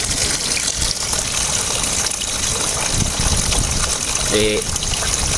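Water gushes continuously and loudly out of a 4HF1 diesel engine, a steady rushing splash, with a brief tonal whine near the end.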